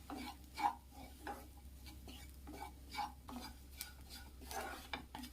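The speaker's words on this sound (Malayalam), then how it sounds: "കരിഞ്ഞു പോകാതെ തന്നെ തേങ്ങയൊന്ന് വറുത്തെടുക്കണേ." Grated coconut roasting in coconut oil for a brinjal theeyal, a soft faint sizzle with repeated scraping strokes of a spoon stirring against the pan in an irregular rhythm.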